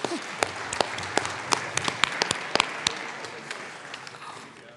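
Applause fills a legislative chamber during a Colorado House session, a scattered round of clapping from many hands with sharp individual claps standing out, fading gradually over a few seconds.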